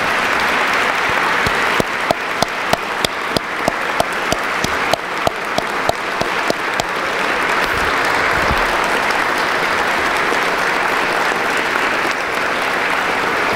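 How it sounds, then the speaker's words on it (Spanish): Deputies in a plenary legislative session break into sustained, dense applause lasting over ten seconds, with several sharper, louder claps standing out near the start against the steady crowd clapping, and no talk over it. "volvamos a manifestar nuestro regocijo con un aplauso"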